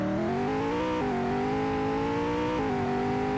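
A V8 car engine in the Roblox driving game revs steadily, its pitch holding then stepping up in a few abrupt jumps like gear changes, loud and continuous with no talk.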